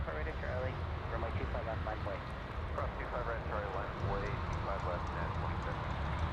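UPS Boeing 747 jet engines at Anchorage airport, a broad, loud continuous roar filling the whole stretch with a steady rushing texture and faint rumble beneath.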